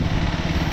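A KTM 390 Adventure, roughly 400 cc, lugs along in fourth gear at a speed of 27 while riding through the city, giving a brief, close, steady low-pitched engine thrum.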